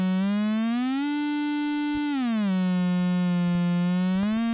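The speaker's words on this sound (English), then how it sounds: "You got that synth sound." Buzzy, harmonic-rich tone from a DIY square wave oscillator box, held steady while its pitch is swept up, back down and up again, loud and close with a few faint clicks and no talking.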